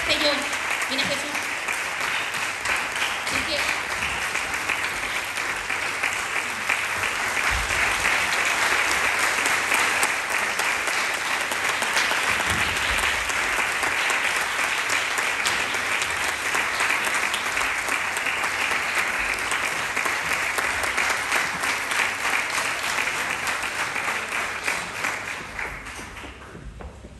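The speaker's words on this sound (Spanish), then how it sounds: "Un fort aplaudiment, per favor." Sustained, loud audience applause for guitarists at an end-of-year music school gala fills the room, steady dense clapping that carries on for nearly half a minute before fading at the end.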